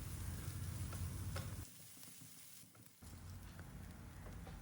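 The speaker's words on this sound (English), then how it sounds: "We'll now fry the onion, ginger, garlic until they turn golden brown and aromatic" Onion, ginger and garlic frying in a pan for a spinach soup, a steady close sizzle that drops away briefly midway before resuming, with occasional stirring clicks.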